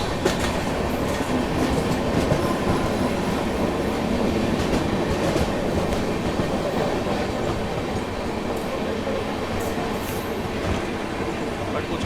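Trivandrum Rajdhani Express running on tracks, heard from on board as a continuous loud rumble with steady clickety-clack of wheels over rail joints and occasional squeals, a voice faintly mixed in.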